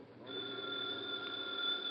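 A telephone ringing in a radio drama: one sustained, bright electric bell ring, close and clear, with no voices.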